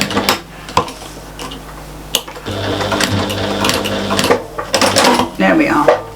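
Sewing machine stitching a bag strap, running in steady whirring bursts broken by short stops and clicks, close and loud.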